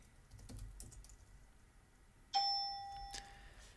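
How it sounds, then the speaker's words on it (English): Soft, sparse keystrokes from a computer keyboard as barcodes are typed in by hand, followed by a sharp electronic ding that rings out and fades. "I could start hand typing in barcodes"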